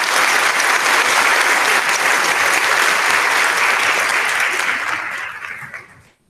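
An audience at a middle school ceremony applauds students with loud, dense, sustained clapping that fades out toward the end; no talking over it.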